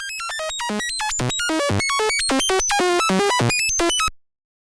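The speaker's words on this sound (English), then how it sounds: "this is the sawtooth first" Synthesizer sawtooth wave from a VCV Rack patch playing random stepped pitches, a rapid run of bright, buzzy beeps jumping between high and low notes, loud and alone, stopping abruptly near the end.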